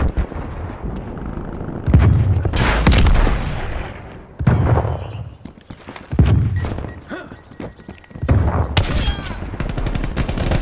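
In Call of Duty Cold War, an enemy turret fires amid battlefield noise: bursts of booming gunfire and blasts come in several clusters, loud and close, mixed with scattered crackles and clatter.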